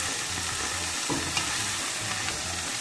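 Vegetables fry in a pan for an Arabic dish while a utensil stirs them, a steady sizzle broken by scraping strokes at an even rhythm, close and continuous, with no talk.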